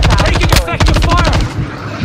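Loud, close rapid gunfire in Call of Duty Modern Warfare 2 multiplayer with the 556 Icarus weapon, fast bursts of shots tightly packed through most of the moment, a brief gap midway, fading into echo at the end.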